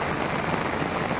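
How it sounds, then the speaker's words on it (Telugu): Floodwater pours through a breached embankment in a dense, continuous hiss of rushing water, loud and close, with no pauses or voices. "కట్ట ఇగో ఇక్కడ సైడ్ తెగిపోయి వస్తున్నాయి నీళ్ళు."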